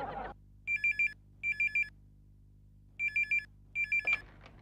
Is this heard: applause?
no